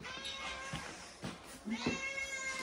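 A cat meows several times at an animal shelter, the short plaintive cries coming close by and moderately loud, with a longer call near the end over faint room background.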